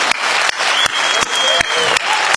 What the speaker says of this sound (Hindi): तालियां कमजोर है मित्र आपकी